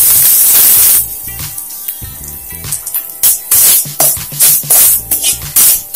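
Grated coconut roasting in a spoonful of ghee in a pan, a loud close sizzle that opens steady, then breaks into repeated hissing bursts as it is stirred, with no voices.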